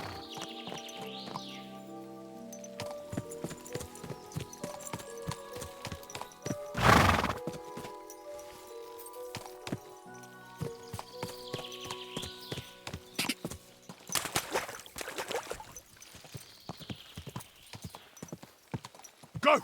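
Rhythmic clip-clop of a horse's hooves galloping steadily in the video game Kingdom Come: Deliverance II, with a loud whinny partway through and another neigh later, over a layer of steady music.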